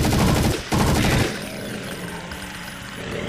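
Loud rapid bursts of G36 automatic rifle fire in a zombie video game (Project Brutality), two dense volleys separated by a brief gap, then a fading rumble and ambient noise.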